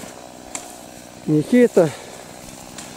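A chainsaw cuts wood during roadside clearing work at a hidden bend, running as a steady, fairly distant drone while a voice speaks briefly over it.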